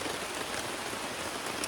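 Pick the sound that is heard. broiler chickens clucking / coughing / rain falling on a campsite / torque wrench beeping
rain falling on a campsite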